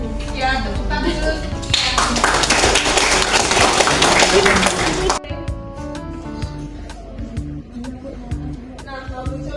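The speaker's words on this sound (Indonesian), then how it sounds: "Ya, tepuk tangan dulu" Students in an Indonesian classroom clap for a classmate, a burst of applause of a few seconds rising over background chatter before it stops and voices and scattered taps carry on.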